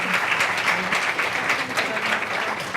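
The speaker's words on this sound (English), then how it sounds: "Let's give them a great round of applause." An audience at a trade and international affairs symposium applauds the panelists, a close, steady patter of many hands clapping with a faint voice low underneath.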